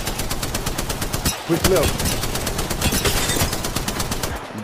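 Rapid automatic gunfire rattles almost nonstop in the Apex Legends battle royale game, loud and close, while a player briefly speaks over it.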